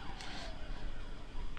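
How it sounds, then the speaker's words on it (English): Police car sirens whizzing past in a Blender animation scene of a laundromat, a wailing tone over street noise that rises and sweeps briefly, moderately loud, with no talk. "police cars go whizzing past"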